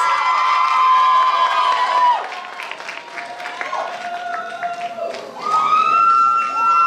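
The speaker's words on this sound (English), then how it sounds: "Round of applause." A crowd at a university cultural pageant cheers, whoops and claps for a contestant, loud and sustained, with children's high shouts riding over it and a brief dip before swelling again.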